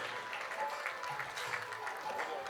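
Crowd applause at a Jain religious welcome gathering for Acharya Shri Samay Sagar Ji Maharaj, a fairly faint, even wash of clapping from a large audience in the distance.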